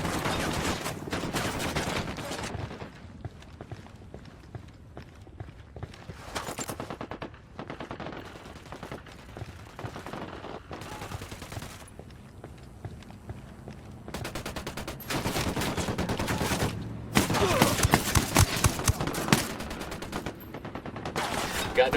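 Gunfire in the Spec Ops Bolivia game, with repeated bursts of automatic rifle fire and dense volleys, loud and close, separated by short quieter gaps.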